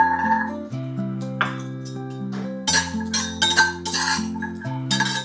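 Roasted garlic cloves being moved into a metal plate while making masvadi, giving a run of light clinks and metallic scrapes over a continuous tonal background of steady music, with no talking.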